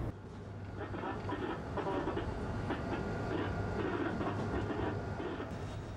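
A train runs along the Honam line railway toward Seodaejeon station, a continuous rolling rumble with rhythmic clickety-clack from the wheels on the rails. The sound stays fairly steady for its whole length.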